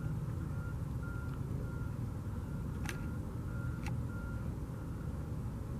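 A truck passes near a Las Vegas construction site, its engine a low rumble under a steady, faint reversing beep that repeats at a regular pace, plus a couple of short high clanks.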